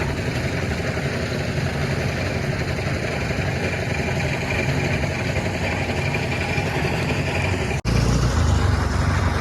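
A motorcycle engine idles in a continuous dense rumble that holds steady, briefly cuts out near the end, then returns slightly louder.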